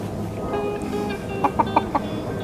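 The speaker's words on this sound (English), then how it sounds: "She my Muppet chicken." A pet hen clucks close by in four short, separate clucks spaced over about half a second, with a steady low background hum underneath.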